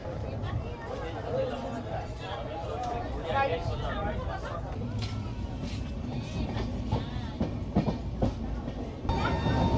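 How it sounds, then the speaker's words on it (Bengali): A passenger train pulls out of Azimganj station with a rumbling, rattling run and faint clicking, while nearby passengers chatter over the steady noise of the carriage. "ট্রেন আমাদের আজিমগঞ্জ স্টেশন থেকে ছেড়ে দিল।"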